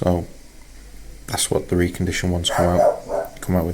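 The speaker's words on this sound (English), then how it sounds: "That's the dog." A pet dog barks a few times close by in a garage during a Toyota Land Cruiser Prado 120 injector job, the yips mixed in with someone talking.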